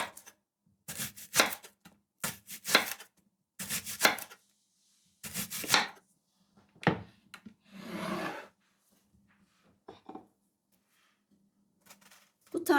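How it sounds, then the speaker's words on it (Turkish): A knife slicing an onion into thin rings on a board: a close run of short, dry cutting bursts in irregular clusters, with quiet pauses between strokes. "Bir tane soğanı da halka şeklinde dilimleyelim."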